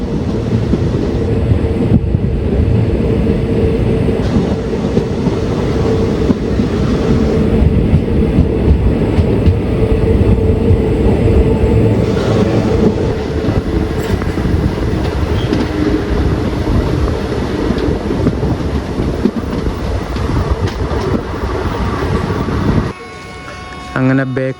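A passenger train rolls into Bekal Fort railway station, a loud, continuous rumble of wheels with clattering and wind buffeting the microphone. The noise eases slightly near the end as the train slows.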